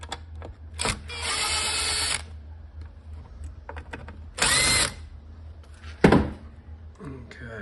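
Power screwdriver backing screws out of a small box cover over a printed circuit board, three close, loud whirring bursts of about a second or less, separated by quiet handling noises.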